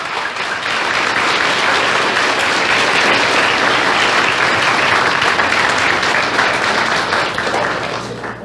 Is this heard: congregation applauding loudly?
yes